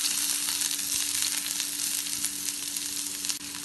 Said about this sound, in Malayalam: ഒരു പകുതി സവാള വളരെ ചെറുതായി മുറിച്ചത്, ഒരു ചെറിയ കഷ്ണം ഇഞ്ചി ചെറുതായി മുറിച്ചത്, നാലല്ലി വെളുത്തുള്ളി ചെറുതായി മുറിച്ചത്, ഒരു പച്ചമുളക് വട്ടത്തിൽ മുറിച്ചത് ഇതെല്ലാം ഇതിലേക്ക് ചേർക്കാം